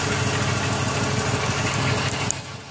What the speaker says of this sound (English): engine still has a little miss